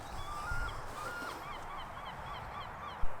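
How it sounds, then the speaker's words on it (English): Seagulls call faintly in the distance outdoors, giving a few short, rising cries over quiet background hiss, then a brief close thump right at the end. "Oh, I can hear seagulls."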